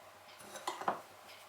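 Soft scraping and light clinks of a metal spoon spreading crumb topping over dough for a coconut pie, quiet and close.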